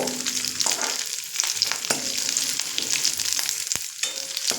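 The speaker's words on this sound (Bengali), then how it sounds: "এইভাবে নেড়ে একটু ভেজে নেব" Cashews and raisins sizzle and crackle as they are stir-fried in a pan for pulao, a steady close hiss broken by occasional scraping stirs, with no talking.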